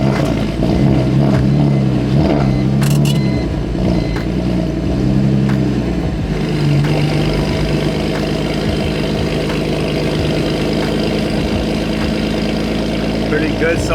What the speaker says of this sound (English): Oh, I'm gonna start this car.